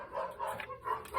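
Dogs barking at home, a close burst of several quick, loud barks and yips that rise and fall over about a second.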